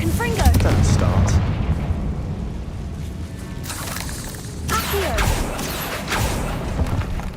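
A Confringo blasting spell goes off in Hogwarts Legacy inside a tomb, giving booming, thudding explosive bursts with crackling debris over a rumbling low bed, while game character voices talk throughout.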